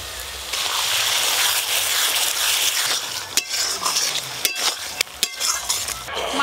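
Fish cooking in a pan for a Bengali mustard-oil fish curry (tel jhal), with a broad steady sizzle of frying and stirring, then sharper clinks and scrapes of a utensil against the pan in the last seconds.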